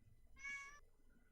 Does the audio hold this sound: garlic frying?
no